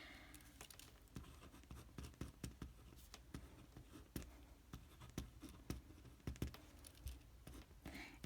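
A pen or marker writes an equation by hand, giving quiet, irregular scratching and tapping strokes close by, repeating in short bursts with no talk.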